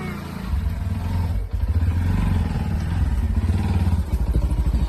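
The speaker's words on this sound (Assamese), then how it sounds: "তাই মানে দেউতাকৰ লগত আহি আছে, বাইকতে যাব।" A motorcycle about to carry a schoolgirl and her father to morning school runs close by with a throbbing, pulsing idle and a brief dip, accompanied by light clatter.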